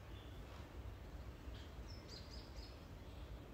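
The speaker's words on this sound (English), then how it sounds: "Yeah, those are birds." Birds sing outdoors in a few faint, brief high chirps over a steady background hiss, distant and quiet with no voices.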